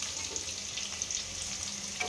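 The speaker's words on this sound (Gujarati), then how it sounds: "હવે હું એના અંદર એડ કરીશ ઓનિયન, ડુંગળી." Thinly sliced onion fries in a pan with a steady, moderate sizzle and light crackling, heard close with no voices over it.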